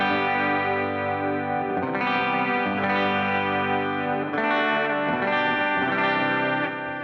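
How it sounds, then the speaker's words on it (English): An electric guitar plays sustained, layered chords through a DOD compressor pedal on a large pedalboard, with a washy, effected tone and smooth, even level throughout, alone and close. "Then I go into the DOD compressor, which is"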